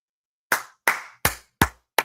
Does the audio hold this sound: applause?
yes